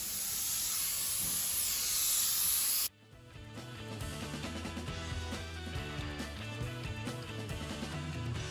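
Clear coat sprayed over artificial leather on a 65-year-old Morris Minor interior, a steady close hiss of the spray for about three seconds, then it cuts off and quieter background sound continues.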